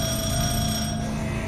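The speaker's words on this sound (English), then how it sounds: "Phone's ringing." A telephone ringing in the SCP Containment Breach Unity remake video game, a steady continuous ring with sustained tones filling the short stretch, loud and alone without talk.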